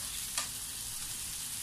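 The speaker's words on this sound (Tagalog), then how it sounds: "I-fry po natin ito hanggang ito po ay lumambot" Red bell pepper and onions fry in a pan, a steady, fairly faint hiss with one brief scrape of stirring, close and continuous without speech.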